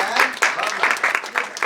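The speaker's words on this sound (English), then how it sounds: "big round of applause for Kirtana" Brief burst of audience applause, a crowd clapping in a quick, uneven patter that stays fairly loud throughout.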